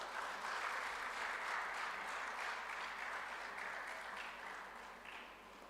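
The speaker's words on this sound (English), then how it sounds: "Please give a huge round of applause." Sustained applause from a dental conference audience fills the hall, steady and dense for several seconds before easing slightly toward the end.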